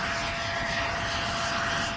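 A loud, steady helicopter engine drones without a break, a constant roar with a faint high whine on top, over a remote island nature reserve.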